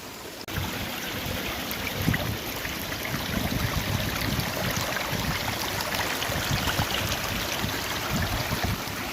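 Water rushes steadily through a gold sluice box in a Gloucestershire forest digging spot, a loud, close, continuous splashing flow that holds without a break for the whole stretch.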